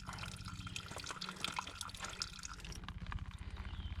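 A mountain spring in the Smoky Mountains trickles steadily into a water bottle being filled, a soft continuous splashing and dripping heard up close, with no talking.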